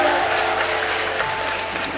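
Crowd applause at a political rally, steady clapping from a large audience sustained for a couple of seconds, with a faint tonal hum beneath it.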